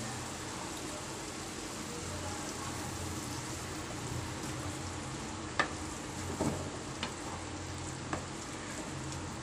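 Tomato gravy fries and sizzles steadily in a pan for an egg curry, a soft, constant crackle with a few faint clinks of a utensil stirring.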